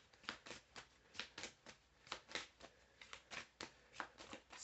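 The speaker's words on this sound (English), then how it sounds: "I'm just going to go on and just shuffle up here." Tarot cards being shuffled in quick riffling bursts, a steady run of papery flutters repeating about twice a second, close up with no voices.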